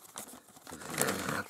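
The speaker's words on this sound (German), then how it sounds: "Machen wir einfach die Tüte auf." A plastic Lego parts bag being torn open, with short crinkles and a rip of thin film close by, quiet and brief, without speech.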